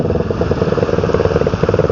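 A purple Yamaha X-Max motor scooter runs with a steady, mid-pitched engine drone and light mechanical clatter, sounding near and fairly loud throughout, with no talking.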